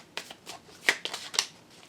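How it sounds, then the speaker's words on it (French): Oracle cards are shuffled and drawn in a few quick, crisp riffling bursts, close and clear with no talking. "je vais voir si j'ai pas une carte avec Béline pour vous"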